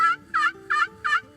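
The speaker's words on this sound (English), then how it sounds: "usually they're gobbling, they're communicating." A wild turkey gobbles in four quick, evenly spaced bursts, each a loud warbling rattle, heard clearly and close with no talk.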